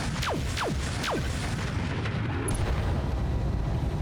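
A rapid triple burst of LBX AC-10 autocannon fire from a mech in BattleTech, heavy booming shots over a dense, constant battle rumble.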